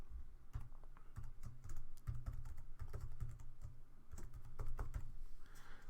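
Fast typing on a computer keyboard while a parameter name is entered into a drawing table cell in Creo Parametric: quick, dense bursts of close key clicks with brief pauses, no voices.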